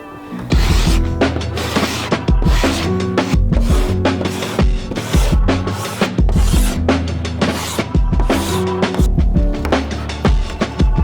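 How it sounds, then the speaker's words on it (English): Hand scraping of garden walls with a tool, rough repeated rasping strokes in an uneven rhythm, loud and close with no talk over them. "I'll go back to scraping these walls"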